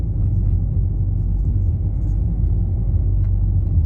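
A Peugeot 301 car engine drones low and steady under load, a constant rumbling hum from inside the vehicle as it climbs a steep hill.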